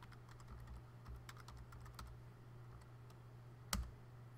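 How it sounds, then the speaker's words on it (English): Quick, light keystrokes tapping out a username on a computer keyboard, a close run of irregular clicks over a low hum, ending with one firmer key press. "I'm going to put my username in right now"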